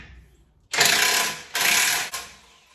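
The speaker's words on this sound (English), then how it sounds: "so I'm just gonna use the impact on these." An impact wrench drives 5/8 winch bumper bolts on a Jeep JL Rubicon, giving two loud sustained buzzing rattles of under a second each, separated by a short gap, with a brief third burst starting at the end.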